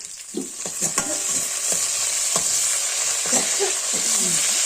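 Chopped onions frying in oil in a pan for a village-style Nepali meat curry, with sharp scraping stirs of a spoon at irregular intervals over a steady, close hiss of sizzling.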